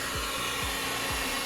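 A blower or hair-dryer-style fan runs steadily and loudly up close, cooling three small drinks and one large one, a continuous whooshing rush with faint low thumps recurring about every half second.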